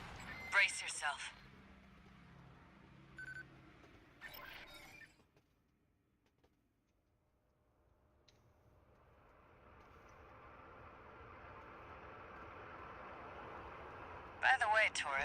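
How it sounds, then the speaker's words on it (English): In the mech game Armored Core 6, a rail cannon launch builds from sharp metallic crashes into a swelling engine roar that rises over several seconds and ends in another loud burst. A voice speaks. "A trip in a rail cannon."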